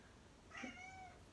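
A house cat lets out a single soft meow indoors, brief and faint against a quiet room.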